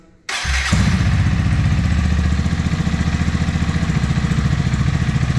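A Honda CG Fan 160 motorcycle with a sport exhaust cranks and fires up after a quiet moment, then settles into a loud, close, steady idle with a rapid rhythmic exhaust burble.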